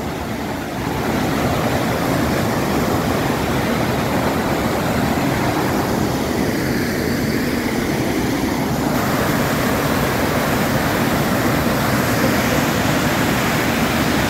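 Water from the Jogini waterfall near Manali, Himachal Pradesh, fed by melting ice, pours down steadily in a loud, unbroken roar, a dense rushing wash heard up close.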